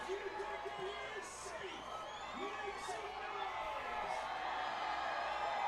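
A baseball crowd at Shepherd Stadium cheers for a decibel challenge during a game. The roar stays broad and steady, with whoops and whistles rising above it. Announcers talk over the crowd noise.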